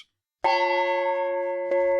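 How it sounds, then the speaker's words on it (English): A small bell mounted on top of a Thai gong is struck once, giving a clear, bright ring with strong sustained overtones that hang on, then a second soft tap near the end as the tone keeps sounding. "I bought this super cool small little Thai gong. It has this small little bell on the top"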